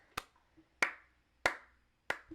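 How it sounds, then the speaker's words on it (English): Four slow, evenly spaced hand claps, crisp and close, with short pauses between each. "Slow clap."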